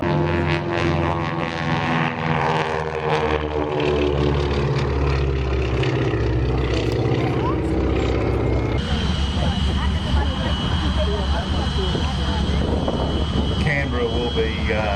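SNJ propeller trainer aircraft taking off at an air show, a loud continuous engine drone with shifting pitch that holds throughout, changing character midway as it moves off.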